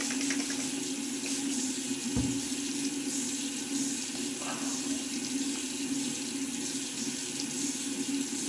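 A bathroom tap runs steadily during a morning wet shave, a continuous even splashing hiss with a single sharp knock partway through.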